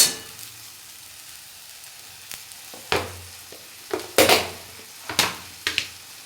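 Spice paste frying in a pan for a Bengali fish curry, a soft low sizzle broken by a series of sharp spatula scrapes and clinks that come every second or so in the latter half.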